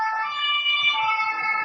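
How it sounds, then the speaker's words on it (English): An ambulance siren in Germany wails steadily and loudly throughout, with no voices over it. "Okay, there's an ambulance."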